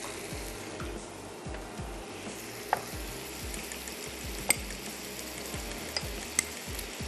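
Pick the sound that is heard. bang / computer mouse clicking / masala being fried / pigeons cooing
masala being fried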